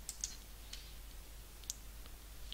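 Two or three sharp, faint computer mouse clicks, made while selecting an item in a software menu, sit over a quiet steady background hum.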